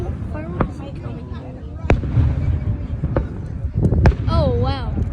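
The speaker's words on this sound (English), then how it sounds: "So far, the oval fireworks is coming." Fourth of July fireworks burst in a series of sharp booms spaced about a second apart, with crackling afterglow between them, while people talk and exclaim over the noise.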